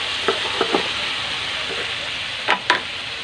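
Broccoli and chayote stir-frying in a pan, a steady hiss of sizzle with a few soft scraping stirs early on and two sharper clatters of the utensil near the end.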